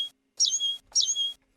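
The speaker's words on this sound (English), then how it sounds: "Last but not least, we have the lesser goldfinch, a related species to the American goldfinch that occurs out east." Lesser goldfinch singing from Arizona: two clear, high, sweet phrases in quick succession, each a bright descending twitter with a slurred note, close and isolated against quiet.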